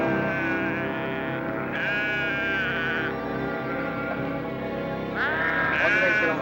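A flock of sheep bleats loudly and continuously near a stopped train in a classic western film scene, overlapping wavering calls rising and falling in a dense chorus throughout.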